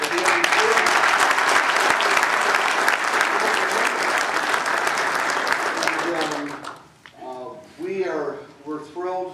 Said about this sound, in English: Now you better applaud for that